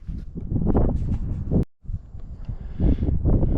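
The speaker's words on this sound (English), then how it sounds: "it's just a pretty windy day out here today" Heavy, low buffeting wind rumbles across the microphone in gusts, dropping out briefly in the middle before roaring back.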